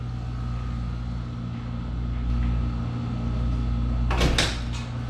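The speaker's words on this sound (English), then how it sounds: "He's gonna come through that door" A hospital room door opening, a short burst of scraping and clunking near the end over a steady low hum of room equipment, with no talk.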